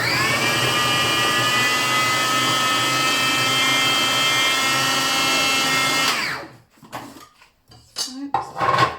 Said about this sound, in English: So I'm going to blend all this together.